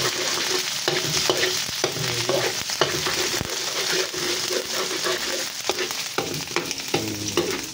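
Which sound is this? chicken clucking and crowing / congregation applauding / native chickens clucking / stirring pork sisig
stirring pork sisig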